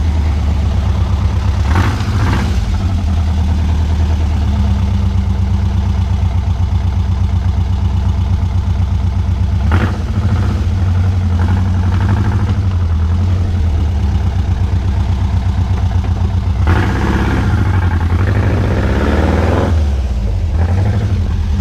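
Air-cooled VW beach buggy engine running loudly and steadily for a long stretch, idling with a deep throbbing note and several revs, close by and unbroken by speech.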